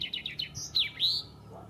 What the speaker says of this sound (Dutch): Kenmerkende zang met die uithaal op het laatst, de vinkenslag.